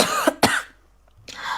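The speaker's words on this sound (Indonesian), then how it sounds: "Kok batuk ya?" A close, sharp pair of coughs comes in quick succession, followed by a short pause and then another rough, throaty burst.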